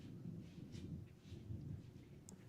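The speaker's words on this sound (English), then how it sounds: "Oh, my Lord, that thunder." Thunder from a storm rolls as a low, continuous rumble, fairly faint and distant, with no voices over it.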